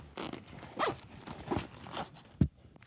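A zipper slides open or shut on an inside pocket of a Goosebumps backpack, giving several close, quiet raspy pulls followed by a sharper final tug.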